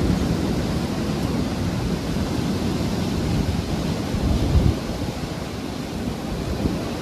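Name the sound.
freezing rain and sleet hitting outside during a storm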